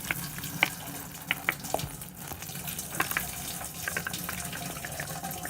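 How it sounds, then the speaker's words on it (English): Boiled squash seeds and their water are poured into a colander in a sink, giving a steady splashing rush broken by several light clinks and taps, with no talking. "we're going to see the seeds be poured into the colander"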